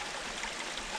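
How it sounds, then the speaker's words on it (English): A mountain stream in the Scottish Highlands flows with a close, continuous wash of rushing, babbling water, steady and broadband with no other sounds over it. "making use of the stream because it might not last much longer or higher"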